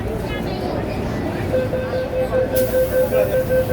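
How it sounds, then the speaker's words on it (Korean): Inside a moving Hong Kong subway train, a constant rolling rumble fills the carriage, a thin steady tone rises partway through, and faint murmuring voices sit under the noise. "홍콩 지하철. 홍콩 지하철의 분위기."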